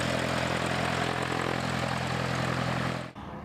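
A Cessna 182 propeller airplane engine drones steadily and loudly from close by, a constant buzzing roar that cuts off abruptly just before the end.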